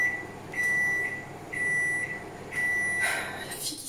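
A microwave oven beeps three times with even pauses as it finishes, each tone steady and fairly loud in a quiet kitchen, followed by a brief clatter at the end.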